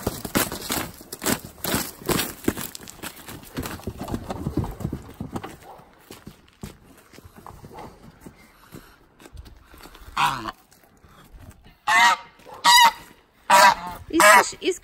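Geese being returned to a farm honk in loud, close bursts near the end, after a long stretch of shuffling, clattering movement; people talk intermittently throughout.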